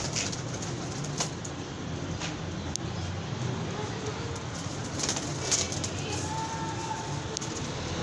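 Home-bred pigeons cooing in a loft, soft low coos repeating over a busy steady background with scattered chirps and rustles, moderately close.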